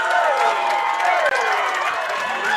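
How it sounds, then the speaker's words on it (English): Football crowd at a Falmouth at Gardiner game cheering continuously, stirred up by cheerleaders, a dense roar of voices and clapping that stays loud throughout with a commentator-like voice mixed in. "Getting the crowd revved up."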